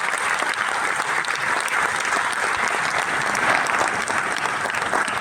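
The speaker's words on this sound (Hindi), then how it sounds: "उनके लिए आप एक तालियां बजा दीजिए" An audience at a university valedictory celebration claps steadily, a dense even wash of applause from many hands lasting throughout, with no voices standing out.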